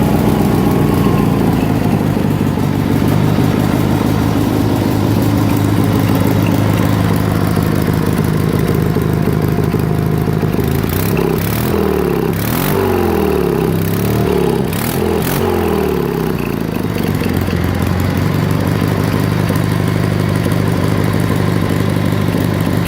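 A Sears Suburban SS16 lawn tractor engine idles loudly and steadily up close. Midway through, a short stretch of uneven sputtering and revving stands out, then the engine settles back into its steady idle, with no talking.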